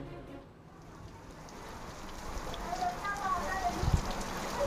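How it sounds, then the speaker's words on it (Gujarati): Rain falls steadily over rural areas of Umarpada in Surat, Gujarat, a soft, continuous broadband hiss that stays fairly quiet and swells slightly toward the end. "સુરતના કેટલાક વિસ્તારોમાં સતત બીજા દિવસે વરસાદ પડ્યો છે"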